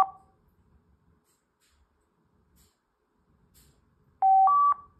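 A vintage car phone handset, wired through a Bluetooth adapter, gives a brief tone at the start, then near silence, then two quick, clear dialing tones back to back near the end.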